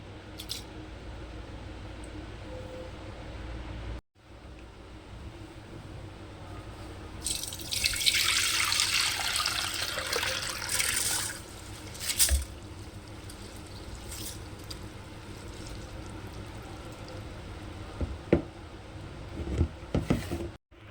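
Soaked rice tipped into a sieve, water pouring and draining through in a loud broad rush that builds then tapers, followed by scattered drips and small knocks; no talking.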